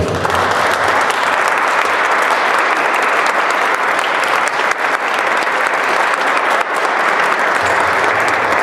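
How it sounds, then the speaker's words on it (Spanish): Audience applause at a book presentation, a loud, dense and unbroken burst of many people clapping, steady throughout with no talk over it. "Francisco Rubo Montoya Burciaga, para el cual también pido un fuerte aplauso esta tarde"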